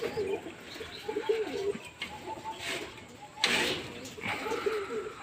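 Pigeons coo in a low, bubbling chorus near a loft as its shutter is opened, with clattering knocks and rustles breaking in and out.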